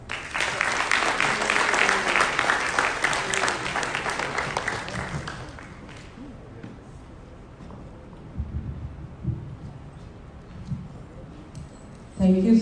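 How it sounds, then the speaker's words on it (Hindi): Audience applause at a live stage show, a dense burst of clapping loud at first, then thinning and fading into quieter room noise with a few scattered claps. "थोड़ी जोरदार से तालियां हो जाए।"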